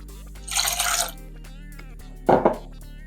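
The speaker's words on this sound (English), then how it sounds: "let's add 105 mils of white wine vinegar and 2 tablespoons of sugar" Two short pours into a container for mint sauce: a longer hissing splash of white wine vinegar, a pause, then a brief grainy pour of sugar.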